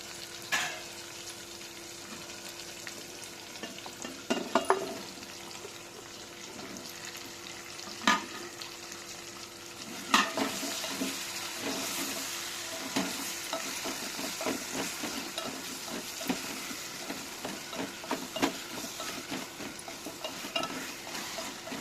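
Drumsticks and tomato stirred in a pan for a lentil dish, a steady low sizzle under repeated scraping and clattering strokes of a spoon, with occasional louder knocks, close and continuous with no talking.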